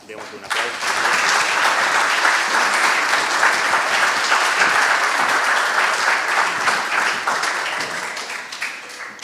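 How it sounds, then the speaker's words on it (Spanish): Sustained audience applause at a book launch event fills the room for about nine seconds, rising quickly and holding steady before tapering slightly at the end. "Démosle un aplauso."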